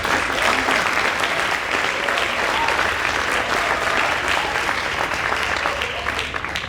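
An audience at a middle school prize day ceremony claps for the facilities, maintenance and support team, a loud, dense, even wash of applause that holds steady and tapers slightly at the end.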